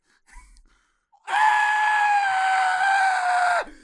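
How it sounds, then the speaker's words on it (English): A loud, sustained human scream rises sharply after a faint brief noise, holding a harsh, strained tone for over two seconds before cutting off abruptly, recorded near the mic but backed away, with no other voices. "Let's get a snippet of that scream, but back up from the mic."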